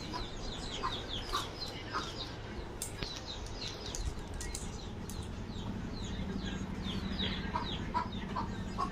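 A chicken clucks repeatedly in short, choppy calls at moderate distance, with brief wing-flap rustles and a steady outdoor background murmur underneath; no speech.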